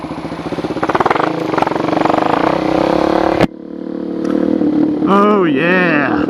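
A 2013 Suzuki DRZ400SM supermoto motorcycle being ridden, its engine droning loudly and steadily with gear changes, then a brief drop before revving rises again in pitched sweeps; a voice talks over it.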